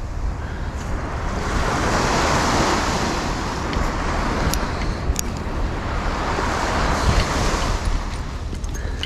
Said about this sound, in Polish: Szum morza, ptaków śpiew.